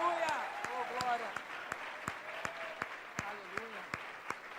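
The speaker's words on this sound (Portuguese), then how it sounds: "vamos ficar de pé e dar uma salva de palmas para Jesus" A church congregation, standing, claps in sustained applause, a dense wash of hands with a few louder individual claps and raised voices calling out over it.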